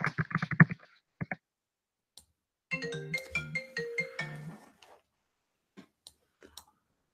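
A phone plays a short melodic ringtone, a bright run of stacked tones lasting about two seconds. Scattered keyboard clicks come before and after it in an otherwise quiet room.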